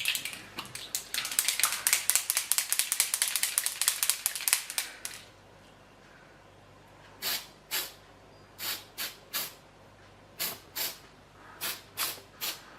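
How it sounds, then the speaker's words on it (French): Easter chocolates are sprayed with chocolate from a spray can: a rapid run of short hissing bursts comes first, then, after a quiet gap, a series of separate spaced puffs, all close and clear. "Alors pour le spray, je vais vous montrer, c'est vite fait aussi."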